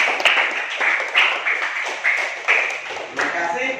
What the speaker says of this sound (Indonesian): Ya, tepuk tangan untuk keduanya.